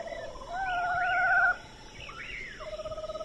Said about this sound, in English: So these are more Winnies of this screech owl.